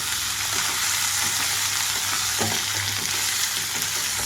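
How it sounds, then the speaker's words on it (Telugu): Cauliflower pieces and onions frying in oil in a pan give a loud, continuous close sizzle, with occasional stirring scrapes and clatter breaking through the hiss. "ఉల్లిపాయలు కొంచెం వేగంగానే క్యాలీఫ్లవర్ ముక్కలన్నీ వేసుకుంటున్నాను"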